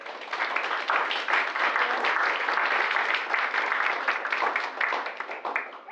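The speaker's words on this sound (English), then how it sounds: "Let's have a round of applause for the artists and for the Art Center staff that's put this entire reception together." Audience applause fills a reception at an art center, honoring artists and staff: dense, steady clapping from a sizable crowd, sustained evenly for about six seconds without a break.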